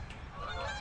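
Geese honk in a busy, overlapping chorus, with several birds calling at once at fairly close range against steady background noise.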